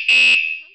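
A KS-SF22R bicycle anti-theft alarm, rated 113 dB, gives one loud piercing electronic tone that cuts off sharply and then rings down into a fading high whine.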